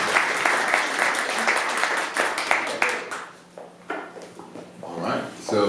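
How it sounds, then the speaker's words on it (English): Audience clapping at a tech team meeting, a dense steady patter for about three seconds that thins into scattered claps and fades as a voice begins talking. "Now let's go back and clap now"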